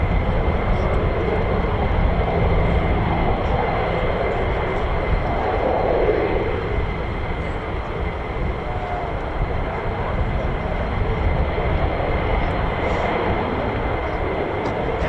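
Fighter jet engine, an F-15 or F-35 at RAF Lakenheath, roaring as a steady, loud broadband rumble throughout, with a person talking at times over it.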